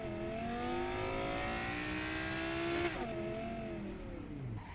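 A Quadra Turbo-R sports car engine in Cyberpunk 2077 revs hard and climbs steadily in pitch, then drops briefly near the end and builds again, loud and close with no talk.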